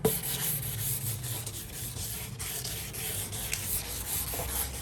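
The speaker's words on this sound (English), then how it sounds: "use like this side of the sandpaper block, which is actually quite good for rails" A surfboard rail is sanded by hand with the side of a sandpaper block, a steady, close rubbing rasp in continuous back-and-forth strokes, fairly quiet and alone without speech.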